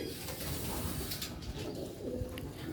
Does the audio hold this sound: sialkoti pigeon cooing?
yes